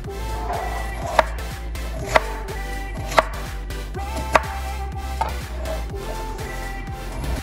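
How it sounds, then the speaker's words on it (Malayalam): Potatoes chopped with a knife on a board, a few sharp, well-spaced chops standing out above a steady low hum, close and fairly loud, with no talking. "ഉരുളക്കിഴങ്ങ് മുറിച്ചെടുക്കാം."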